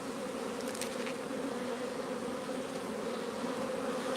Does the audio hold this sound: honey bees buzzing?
yes